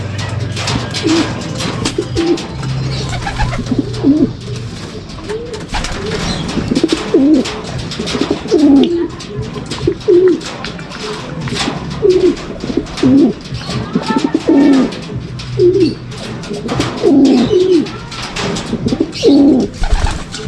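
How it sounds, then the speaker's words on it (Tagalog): Racing pigeons coo repeatedly after landing from a 181.85 km race to Sudipen, La Union, their soft rolling calls close and steady over a low background hum, with no talk. "bumaksak na lang bigla mga kalapatids"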